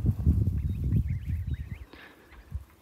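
Geese kept in a home garden call in a run of short, nasal honks over a low rumbling background, moderately near and fairly faint.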